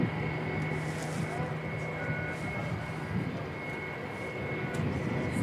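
An airliner taxiing at Christchurch Airport gives a steady, continuous engine whine over a broad rumble, moderately distant and unbroken throughout.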